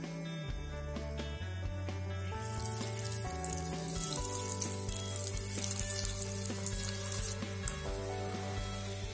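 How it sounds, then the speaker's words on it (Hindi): Potato nuggets frying in hot oil give a steady hiss and sizzle that swells in the middle, heard under continuous background music. "अब इन नगेट्स को हम फ्राई कर लेंगे। तेल गरम हो गया है।"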